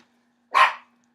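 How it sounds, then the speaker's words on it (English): A single dog bark, sharp and fairly close, one short burst alone in an otherwise quiet room with a faint steady hum. "the dogs freak out"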